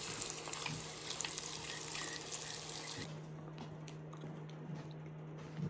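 Steak sizzles in a frying pan with a soft, continuous crackling hiss, fairly faint and close, dropping lower partway through.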